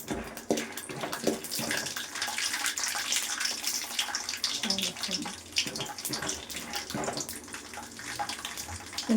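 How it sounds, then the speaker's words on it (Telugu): Peanuts fry in hot oil for a puffed rice snack, giving a loud, steady, crackling sizzle that runs throughout, with a faint voice now and then. "గింజలు కొద్దిగా దూరగా వేగాలి ఆయిల్లో"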